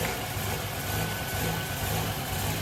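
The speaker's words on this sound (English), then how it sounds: "We're now gonna start the car and watch it warm up." A car engine idles steadily while warming up after a cold start, producing a continuous close rumble with an even low throb and no talking.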